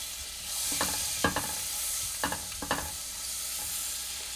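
Butter sizzling in a pan, a soft steady hiss with a few scraping stirs and light clinks layered over it, heard close without voices.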